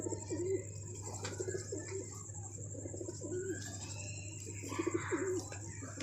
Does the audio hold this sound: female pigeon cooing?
yes